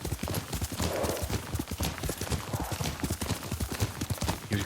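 Yuriko's horse in the video game Ghost of Tsushima gallops with a steady, rapid clip-clop of hooves, loud and close, with a faint whinny mixed into the pounding rhythm.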